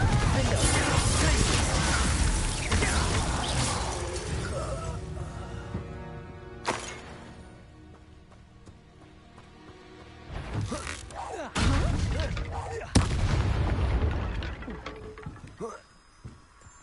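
Confringo explosion spell cast in a Harry Potter video game, heard as loud blasts, crashes and whooshing impacts with busy game action, several sharp bursts toward the end.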